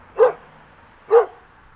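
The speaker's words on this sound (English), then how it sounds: "don't mind the puppy because he's not happy with my throws apparently" A puppy barks twice, close and sharp, with short yips spaced about a second apart over a quiet background.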